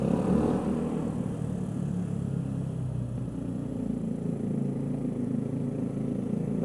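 A Yamaha YZF motorcycle engine runs steadily close by, a continuous loud low rumble with a slight clattery edge and no voices over it.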